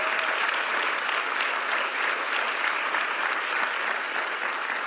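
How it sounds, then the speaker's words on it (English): Sustained audience applause at a conference closing plenary for the speakers, a dense steady wash of many hands clapping throughout with no voices over it. "We can practice our applause by thanking the closing plenary speakers in the way that you do best."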